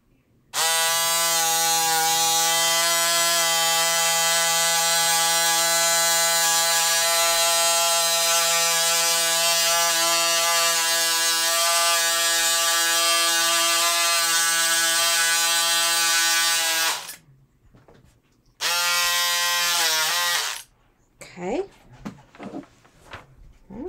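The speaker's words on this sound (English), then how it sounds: "it's much easier cutting through this thick quilting, two layers of quilting" Electric fabric cutter buzzing steadily through two layers of thick quilting, a loud continuous motor whine for about seventeen seconds, then a short second burst before handling noises and speech.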